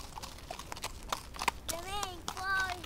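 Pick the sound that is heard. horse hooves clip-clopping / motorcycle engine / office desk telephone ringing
horse hooves clip-clopping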